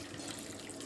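Water poured onto leftover cooked rice to make bore basi: a brief, close, continuous splashing pour with no speech.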